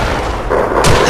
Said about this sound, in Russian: Кто там сейчас стреляет-то?